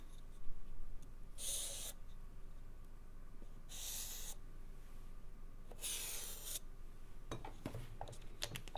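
A pencil traces around a milk carton set on a paper plate for a kids' cardboard craft, giving three short scratchy strokes spaced a couple of seconds apart, then a quick cluster of light taps and clatter near the end.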